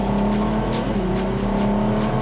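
A Ferrari LaFerrari supercar driving on a race track, its engine loud and close with a sustained, strained tone and slight pitch shifts as it pulls through the corner.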